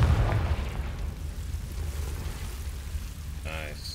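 A fiery blast from the Confringo spell in the video game Hogwarts Legacy bursts out loud and close at the start, then fades into a rumbling crackle, with brief game sounds near the end.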